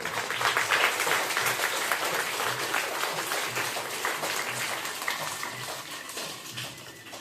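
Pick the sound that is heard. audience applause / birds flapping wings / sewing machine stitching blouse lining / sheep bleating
audience applause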